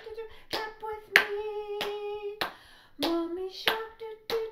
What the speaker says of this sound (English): Clap with me.